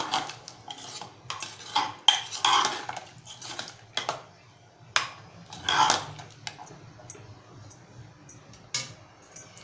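A spoon stirring sprouted white peas curry in a metal pot, Malvani style, irregular scraping clinks and knocks against the pot sides, close and fairly quiet, about a dozen strokes with short gaps.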